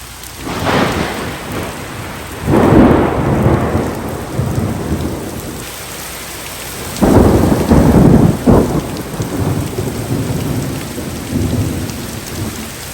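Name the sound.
thunderstorm with rain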